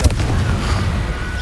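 A Confringo blasting spell from the Hogwarts Legacy video game erupts as a sudden booming burst, then gives way to a rumbling, crackling tail that fades over about a second.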